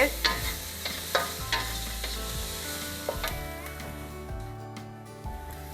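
Salt and pepper prawns being stir-fried with vegetables in a wok: a continuous sizzle with repeated scraping and clanking of the spatula against the pan, close and busy throughout.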